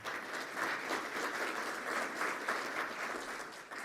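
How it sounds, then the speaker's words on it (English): A room of conference attendees applauds a U.S. Marine Corps veteran who served four tours in Iraq, with a dense, steady wash of clapping that holds at an even level throughout. "Let's give him a round of applause for that."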